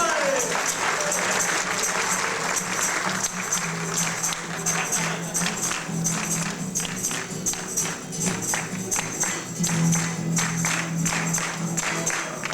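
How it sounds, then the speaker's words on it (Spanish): A crowd claps in sustained, lively applause at a 40th anniversary celebration that carries on throughout, with voices and cheers mixed in. "Un aplauso para él."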